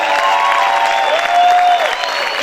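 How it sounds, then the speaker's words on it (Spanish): Church congregation clapping and shouting loudly in worship: dense applause with sustained raised voices and cries layered over it, energetic and close. "Vamos a gritar y aplaudir fuerte al Rey."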